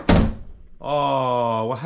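A Jeep door swings shut with one sharp thunk, followed by a sustained tonal chime that holds for about a second.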